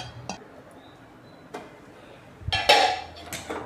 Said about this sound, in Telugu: ఇలా మూత పెట్టి ఒక 5 నిమిషాలు ఉంచుకుందాం.